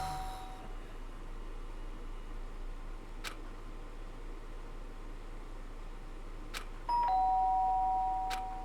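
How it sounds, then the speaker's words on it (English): A soft electronic doorbell chime in a video game rings twice near the end over a steady hiss of background noise, with a few faint clicks earlier. "The sharp sound of the doorbell pierced my sleepy haze and pulled me back to the real world."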